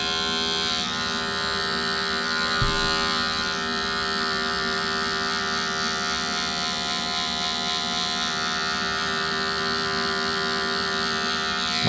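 Adjustable electric hair clippers buzz steadily and close up while fading short hair, a constant loud drone with a brief bump partway through and no talking.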